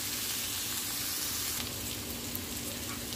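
Yakisoba noodles and soy sauce frying in a pan give a steady, close sizzle with fine crackle, running evenly throughout with no speech over it.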